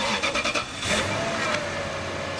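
A Lexus V8 car engine cranks in a quick burst of starter pulses, then catches and settles into a steady idle, close by and moderately loud.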